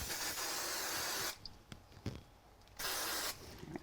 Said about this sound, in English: so I'm going to just use a little spray glue.